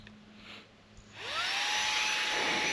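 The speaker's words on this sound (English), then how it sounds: "it's blowing some pretty good air out of this end here, and that's on eco" An Auxito portable vacuum switched to inflate mode on its eco setting starts up with a rising whine that settles into a steady high-pitched motor hum and rushing airflow, close and continuous after a quiet start.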